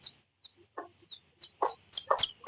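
A hen clucks in short, repeated bursts that grow louder and quicker, close by and otherwise quiet, as she fights while guarding her chick.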